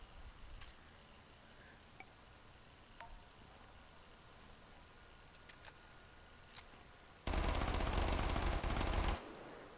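Tech 9 machine pistol firing in a VR gun simulator game, a single loud rapid burst of about two seconds near the end after quiet ambience with a few faint clicks.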